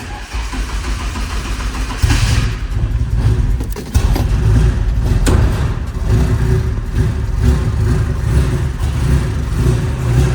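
A turbocharged Nissan 240SX engine fires up on its first start and revs loudly and raggedly close by, a dense roaring drone that jumps in intensity and keeps running unevenly.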